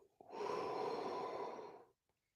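A slow, steady exhale pushed out of emptied lungs during box breathing, a soft, close airy rush that swells and holds for nearly two seconds before fading to silence.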